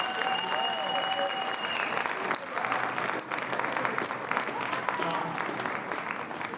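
An audience applauds at the Little League New South Wales State Championship grand final, a continuous, moderately distant patter of clapping with some voices murmuring beneath it.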